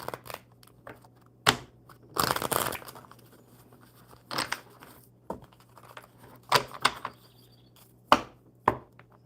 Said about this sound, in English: These cards are easier to shuffle. They're smaller, and they're not nearly as stiff.